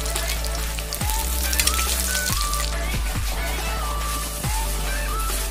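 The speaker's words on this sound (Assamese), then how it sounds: "মাছখিনি ফ্ৰাই হৈ আছে" Shol fish frying in a pan, a steady loud sizzle and crackle of hot oil with a few sharp pops and spatters throughout, no voices.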